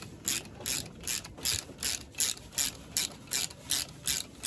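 A socket ratchet works loose a tight bolt on a Royal Enfield Hunter 350 motorcycle, giving about ten evenly spaced, close, rasping click bursts in a steady rhythm.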